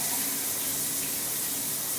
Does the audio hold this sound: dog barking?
no